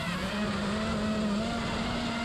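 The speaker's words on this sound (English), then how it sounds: "that's a car" An engine drones steadily in the distance through the whole stretch, a continuous car sound under wind or rotor hiss at an FPV drone flying spot, with no talk over it.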